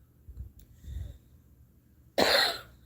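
A single loud, harsh cough bursts out after a couple of quieter breathy sounds, close to the listener.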